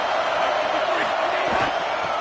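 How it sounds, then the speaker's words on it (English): Football stadium crowd roaring steadily throughout, a dense wash of cheering and voices with a few louder whoops rising near the middle. "This crowd ready to make its presence known."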